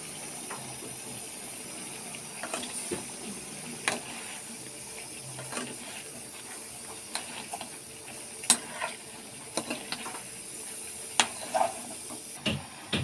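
Spinach cooking in a pan with brinjal and a few spices, giving a soft steady sizzle and hiss broken by faint ticks and light scrapes, quiet and without talk.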